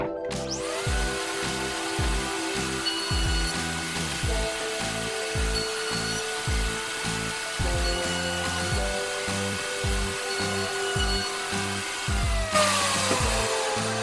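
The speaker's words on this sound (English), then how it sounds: "I'm going to take my top and I'm going to run it through the router table" A router table cuts the end grain of a wooden stool top, a continuous high power-tool whine with rhythmic bursts as the workpiece is pushed through, loud and close with no talking.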